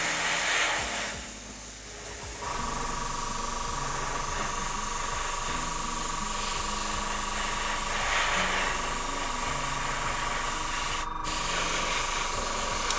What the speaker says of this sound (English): I'm going to spray a bit of this metallic as well, just so we can get that colour change.